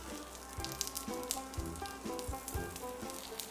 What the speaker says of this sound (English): Now, I'm lowering the flame and we will let the brinjal pan fry